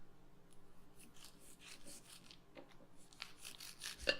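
Sharp serrated knife sawing through a keto cheese wrap roll-up, a quiet close series of rasping, rubbing strokes in a quick back-and-forth rhythm, with no speech.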